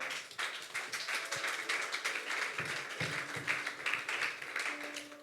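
Church congregation applauding and cheering for Jesus, a dense, steady patter of many hands clapping at a distance, fairly soft, with scattered voices mixed in.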